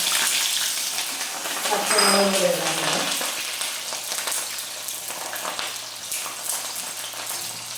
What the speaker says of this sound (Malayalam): ഇനി നമുക്ക് വെളുത്തുള്ളി ഇഞ്ചി വെളുത്തുള്ളി വഴറ്റാക്കാം